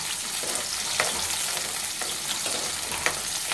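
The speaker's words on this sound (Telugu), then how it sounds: "ఆనియన్ వేసినాక మంచిగా కలుపుకోవాలి" Onions fry in hot oil for a chicken curry, giving a steady, close sizzle with a few soft scrapes as they are stirred. No one speaks.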